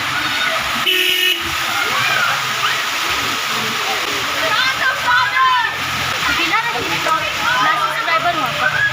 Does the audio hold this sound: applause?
no